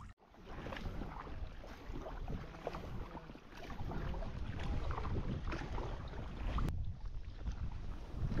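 Gusty westerly wind buffeting the microphone outdoors by the Lippe river, a rough continuous roar rising and falling over several seconds, with faint water sounds beneath.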